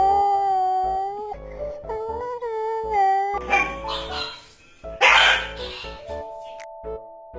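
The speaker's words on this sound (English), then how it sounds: "What kind of dog is that? Oh my gosh, I don't know. It's a cute puppy. What kind is it? A Chihuahua." A Chihuahua puppy howls in long, wavering, high-pitched notes, close and fairly loud, followed by a few rougher, noisier yelps and bursts.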